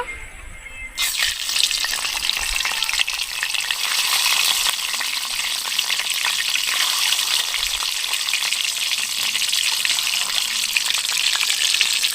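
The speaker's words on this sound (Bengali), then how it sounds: "তারপরে ডিমগুলো ভেজে নেব।" Eggs drop into hot oil and set off a loud, dense, crackling sizzle that starts abruptly after a quiet moment and holds steady throughout, close by with no speech.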